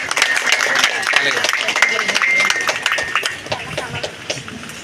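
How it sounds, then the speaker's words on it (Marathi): A crowd at an outdoor church procession for the Velankanni Mother feast, with a bishop present, clapping loudly and continuously in dense overlapping applause mixed with voices and chatter. "सर्वांनी जोरदार टाळ्या वाजवायच्या आहेत."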